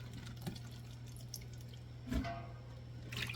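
Water drips and trickles from a kitchen sink as it drains during home mushroom canning, faint and close, with a low steady hum underneath and a brief splash partway through.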